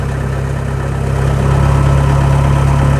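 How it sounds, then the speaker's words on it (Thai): Kubota DC70G Plus combine harvester with a four-cylinder four-stroke water-cooled direct-injection diesel engine running, a close, steady loud idle hum with a strong low drone that swells slightly midway. "ตัวนี้เป็นเครื่องยนต์4สูบ4จังหวะ เป็นเครื่องยนต์ direct injection ครับ"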